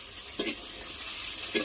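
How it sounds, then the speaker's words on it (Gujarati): Spiny gourd (kankoda) is tempered in a hot pan, giving a steady, bright sizzle with a couple of brief louder hisses or stirring bursts, close by, and no talk. "શાક વઘારે હ"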